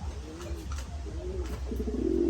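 Racing pigeons coo in low, throaty repeated phrases over a steady low background rumble, the calls growing louder and denser toward the end.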